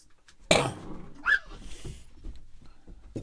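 Dogs in the taiga, a sudden close bark followed by a sharper yelp, then scattered softer growls and whimpering sounds with a final short bark, against a quiet background.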